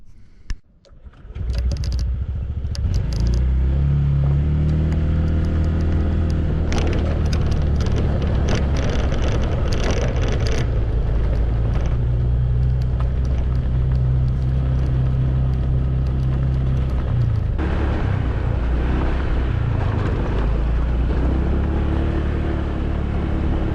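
Honda PCX 150 scooter ridden off road over bumpy ground; a steady engine drone after a brief start, heavy wind buffeting the microphone throughout, close and loud, no talk.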